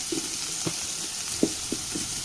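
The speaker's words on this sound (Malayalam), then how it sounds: "നമുക്കിത് നല്ലപോലെ ഒന്ന് വഴറ്റിയെടുക്കണം" Clams sizzle as they are sautéed in a pan for a Kerala-style clam roast, a steady soft frying hiss broken by a few sharp spoon scrapes and taps, close up with no voices.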